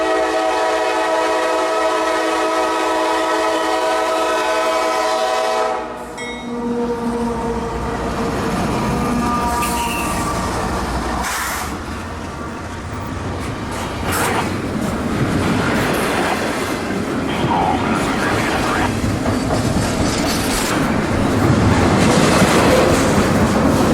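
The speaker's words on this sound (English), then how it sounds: "One of the daily trains out of Duval is Q177, Jax to Winter Haven nightly container traffic." CSX Q177, a nightly container train from Jacksonville's Duval Intermodal Ramp to Winter Haven, sounds a sustained horn and then rumbles past loudly with steady wheel and car noise that builds toward the end.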